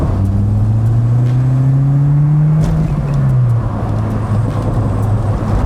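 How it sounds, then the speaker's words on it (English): An old-fashioned turbocharged Saab engine revs and accelerates, a loud, close, steady drone rising smoothly in pitch with turbo surge and then easing off, heard from inside the car with no voices. "The moment you rev it out, it shoots you forwards and you get a bootload of torque kicking you in the back."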